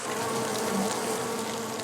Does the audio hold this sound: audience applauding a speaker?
no